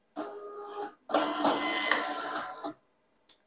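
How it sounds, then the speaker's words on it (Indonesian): A thermal barcode printer, running without a ribbon, feeds and prints a shipping receipt in two steady mechanical bursts, a short one then a longer whirring run, ending with a small click. "Kita coba tes print resi."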